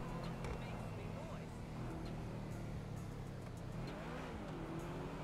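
Engine of a car driving in GTA 5 with a real-life mod, a steady droning hum with shifting revs that runs throughout, heard under someone talking.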